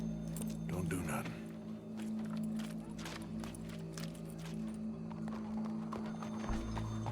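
Horse hooves clip-clop at a walking pace in Red Dead Redemption 2, a steady mid-distance plodding with an occasional whinny, while voices talk over it.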